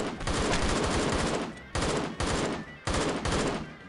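Gunfire in the Postal 2 video game, a shooter: three dense, loud bursts of rapid automatic shots, each lasting over a second, separated by brief gaps.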